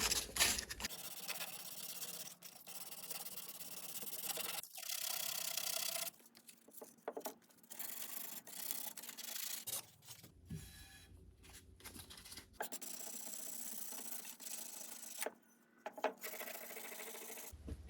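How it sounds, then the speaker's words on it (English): Rough edges and corrosion are sanded off a Sea-Doo jet ski rear step bar, giving faint, close rasping strokes that come in uneven bursts separated by brief pauses and clatters, with no talking. "After you spend a couple minutes and sand any rough edges or corrosion away"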